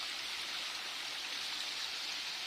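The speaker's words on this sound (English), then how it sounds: "this little thing you can see here in the foreground is tinkling away as the waterfall feature" A small waterfall feature at a resort pool at Jolly Beach, Antigua, gives off a steady, soft splashing trickle, continuous and even, with no voices.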